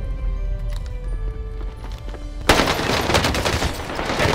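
Gunfire in the Warzone video game: a dense, loud burst of rapid shots erupts midway and continues, following a quieter stretch of game ambience with scattered tones.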